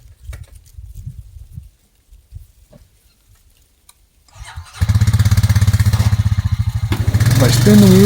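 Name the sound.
four-wheeler engine dragging a log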